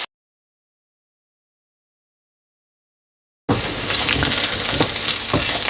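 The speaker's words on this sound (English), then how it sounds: "we're going to fry these until they're slightly golden brown. I'm going to keep my heat setting on high when I do this" Onions frying in a pan on high heat give a loud, steady sizzle with crackles, starting abruptly after a long stretch of silence.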